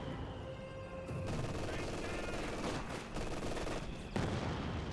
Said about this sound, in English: A mortar firing away there.